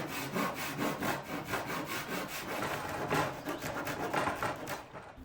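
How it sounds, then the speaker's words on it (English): A hand saw cuts through soft pine with steady back-and-forth rasping strokes, about three per second, close and continuous until the cut finishes. "I decided to make most of the cuts using hand saws, since this is just soft pine."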